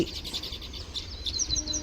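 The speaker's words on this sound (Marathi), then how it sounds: "असा पक्ष्यांचा किलबिलाट" Weaver birds chirp in the morning after rain, a steady run of small high tweets and twitters repeating over a soft background hum, fairly close and moderately loud throughout.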